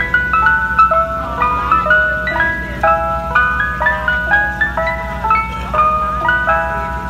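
A Mister Softee ice cream truck plays its chiming jingle loudly and close by, the bouncy melody repeating over a low idling engine hum.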